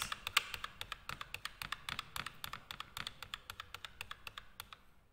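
A computer keyboard on a newly built PC is pressed rapidly and repeatedly while it restarts into BIOS, giving a steady stream of crisp, close key clicks that gradually soften, with no talking.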